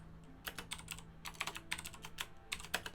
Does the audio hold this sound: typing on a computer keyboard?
yes